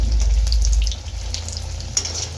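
Snacks with lentil-paste filling frying in a pan give a soft, hissing sizzle over a low rumble, brief and continuous, with a small pop near the end.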